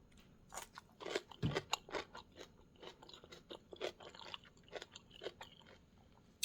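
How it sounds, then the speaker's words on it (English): Close, crisp crunching of someone chewing crunchy fermented vegetables, a rapid series of bites and munches with no talking. "Still has this crunch."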